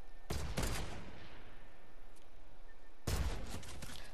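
Fortnite gunfire arrives in two loud, close bursts of rapid shots, the first near the start and the second about three seconds later, with a quiet stretch between them.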